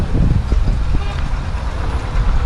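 Street traffic in Dubai rumbles steadily with engines idling and passing vehicles, a continuous low drone close by, with voices faintly mixed in.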